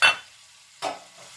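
Fresh shallot tops hit a hot pan of pork and clams, two brief sharp sizzles separated by a short pause, close and moderately loud.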